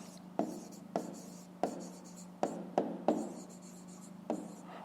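A fifth-grade math solution is handwritten on paper, with a series of quiet, close pen strokes and scratches in uneven bursts and no talk.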